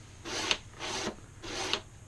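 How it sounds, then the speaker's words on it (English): Charging handle on a customized Gears of War 4 Lancer prop replica being worked back and forth, making three close, dry rasping slides of roughly half a second each with brief gaps between them. "You can actually pull back the charging handle here."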